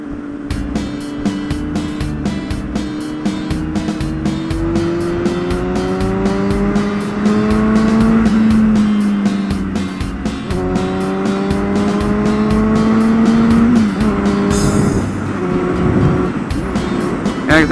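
A 2006 Honda 599 Hornet with a Two Brothers slip-on exhaust, K&N air filter and rejetted carburetion, ridden hard: a loud, close engine climbs steadily in pitch through the gears, dropping sharply at each shift, with wind rush throughout.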